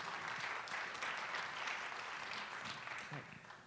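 Fairly faint applause from an audience at a game design contest final, a soft wash of clapping that gradually thins out toward the end.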